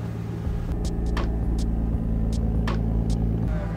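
A car drives along a road with a steady, loud low rumble of engine and tires, while brief higher clicks and whooshes break through the constant drone.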